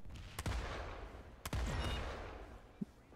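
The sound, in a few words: gunshots in the video game Planetside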